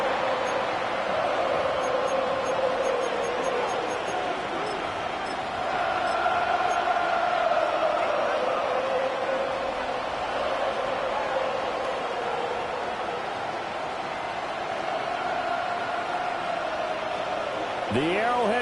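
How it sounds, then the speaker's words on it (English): A large Arrowhead Stadium crowd at a Chiefs football game roars in a sustained, swelling wall of noise, with a commentator talking over it. "The Arrowhead crowd in full roar"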